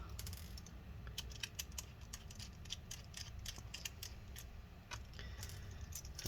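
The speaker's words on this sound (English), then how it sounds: "Take all these screws out." Small screws being backed out of a hard drive caddy inside a Lenovo G500 laptop, giving a run of light, crisp metallic clicks and ticks at close range over a steady low hum, with no talking.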